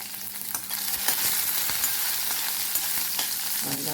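Slit green chillies and curry leaves frying in hot oil for sweet corn usal, giving a dense, close crackling sizzle with occasional stirring knocks and no talking.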